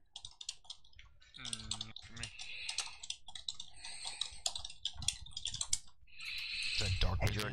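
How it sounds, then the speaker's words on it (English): Computer keyboard keys clatter in rapid bursts during an online game raid, close and fairly loud, while voices talk over the group voice chat. "That wasn't me typing."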